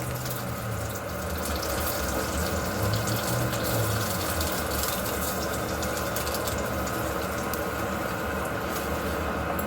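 Water poured into a hot pan of onions and spices gives a steady, close hissing splash that carries evenly for about ten seconds, with no voices.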